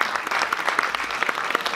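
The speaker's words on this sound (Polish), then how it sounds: "Tak, tutaj jest w scenariuszu brawa." Audience applause at a gala marking the 20th anniversary of a folk cycling club in Głuchołazy, Poland: dense, steady clapping from a sizeable crowd filling the hall, heard alone without talk.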